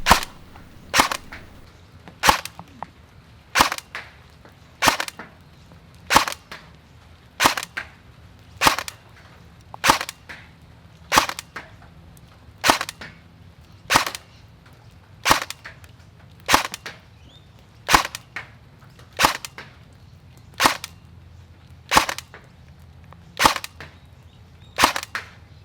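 An APS AK-74U gel blaster with real wood furniture fires about eighteen single sharp cracks at a steady pace, roughly one every 1.4 seconds, each loud and close over a quiet background.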